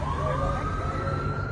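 A police siren wails continuously at the scene of a church shooting in the Laguna Woods retirement community, loud and close, its steady tone held alone with traffic rumble beneath.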